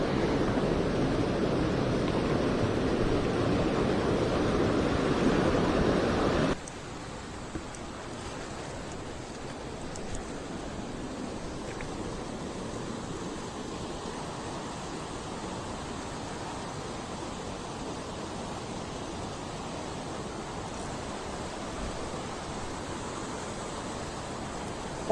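Mountain stream water flowing steadily, a loud rushing wash for the first few seconds that then drops to a softer, continuous burble for the rest, with no voices.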